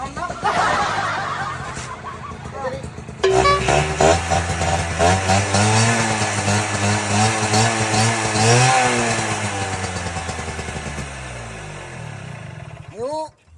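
A two-stroke motorcycle engine starts abruptly and runs with a buzzing, raspy drone, revving up and down before cutting off, while people talk and laugh over it.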